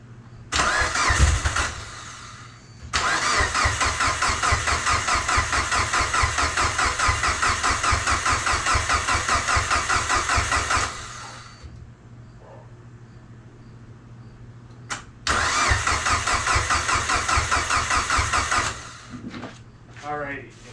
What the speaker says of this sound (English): Then prime the motor just to see how it sounds.